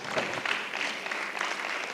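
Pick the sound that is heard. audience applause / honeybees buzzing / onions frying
audience applause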